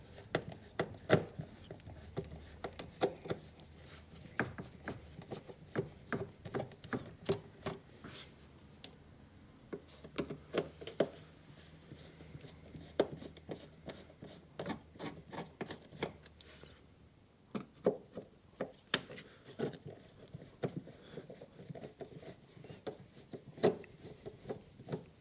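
Phillips screws being undone from the air filter housing of a 2009 VW Beetle 1.4 petrol engine, heard as close, repeated clicking and scraping taps from a screwdriver at work, steady ticks with brief pauses between them and no speech.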